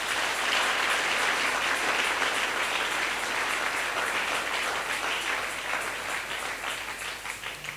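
A church congregation applauds together in praise during a worship service, steady dense clapping sustained throughout at strong volume, with no talking over it.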